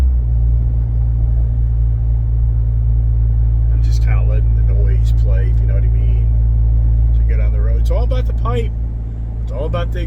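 The exhaust of a black Ram Mega Cab pickup truck holds a steady, loud low rumble throughout, while people talk over it in the second half.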